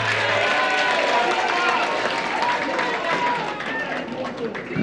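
A large crowd at a Kenyan political rally applauds and cheers loudly and steadily for Raila Odinga, a dense wash of clapping and voices that dips slightly near the end.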